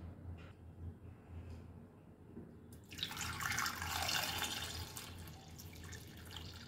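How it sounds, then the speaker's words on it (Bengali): Water pours from a tap into a bowl of amla (Indian gooseberries) for washing, a sudden close splashing gush that starts after a few quiet clinks and continues steadily. "বেশ কিছুটা পরিমাণ জল দিয়ে দিলাম"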